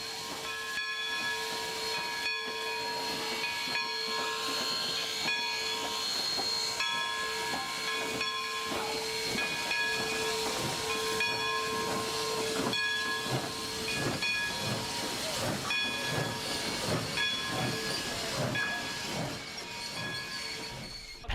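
A big American steam locomotive at a station stop in Cumberland vents steam in a loud, continuous hiss with faint tonal whistling lines running through it. The sound is steady and close, with no talking.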